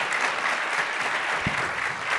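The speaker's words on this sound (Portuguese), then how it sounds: "Uma salva de palmas, pessoal." An audience at a talk on international finance careers gives a round of applause, dense continuous clapping at even loudness with a brief thump partway through.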